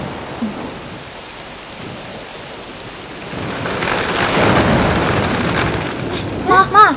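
Thunder and rain outside during a storm, in a drama scene. Steady rainfall swells into a heavy rumbling surge midway, and voices break in at the end.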